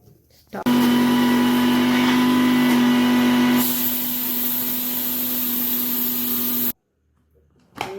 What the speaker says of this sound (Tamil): இதை நம்ம மிக்சியில் கொஞ்சம் நைஸாக அரைச்சி எடுக்கும்.